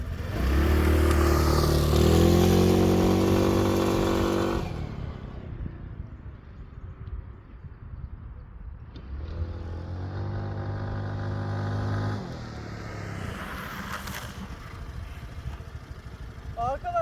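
A Grace 202 motorcycle with a rear disc brake brakes hard on both front and rear brakes from about 40 in an ABS test, its engine droning loudly, then dropping off and idling, with faint wind noise.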